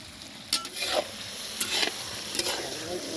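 Food stirring and frying in a pan at an outdoor picnic cookout, a steady soft sizzle with a few sharper scrapes and clinks of a utensil against the pan.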